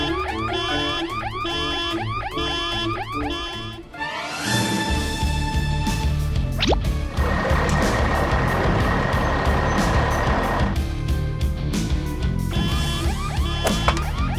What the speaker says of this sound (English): The truck quickly drives away to find other vehicles to help the garbage truck.